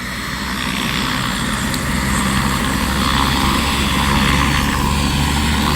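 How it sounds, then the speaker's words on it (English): Loud, continuous roar of a helicopter's engine and rotors spooling up for takeoff nearby at the scene of an eight-vehicle crash, a steady dense whir that swells slightly as it goes. "the helicopter's about to take off"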